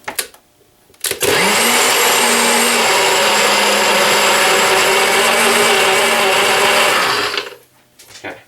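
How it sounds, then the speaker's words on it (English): A blender whirs up spicy mac and cheese sauce, starting abruptly after a brief clunk, then running as a loud, steady motor drone for about six seconds before winding down, with no talk. "Because if this flies off while you're blending, it's not good."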